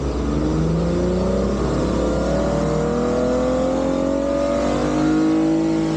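A car stuck in soft sand on Daytona Beach revs its engine hard, rising and falling in pitch as it strains for traction, loud and close, with no speech over it.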